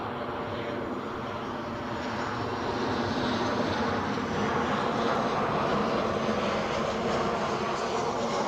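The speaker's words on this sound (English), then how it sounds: "Ryanair inbound from Dublin." A Ryanair airliner arriving from Dublin at Edinburgh Airport passes with a loud, continuous jet engine roar that swells slightly and holds steady, with no voices.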